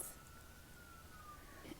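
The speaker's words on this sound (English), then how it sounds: "And now we have sirens." An emergency siren wails faintly outdoors in the distance, a thin steady tone held under a quiet indoor room.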